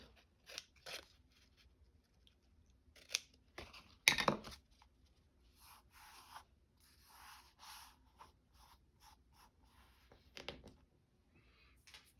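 Scissors trimming a thin edge off paper in a craft journal pocket: a few short, soft snips spread out, with a louder cluster of cuts near the middle, quiet and close.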